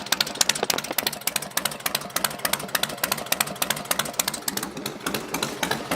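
A Harley Sportster chopper engine runs through new slip-on exhaust mufflers with a steady, loping, pulsing idle beat. It is close, loud and continuous, with no voices.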